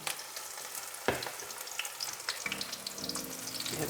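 Moringa flowers stir-fry in a hot pan with a steady sizzle, broken by the scrape and clatter of a spatula turning them over, close and alone with no talking.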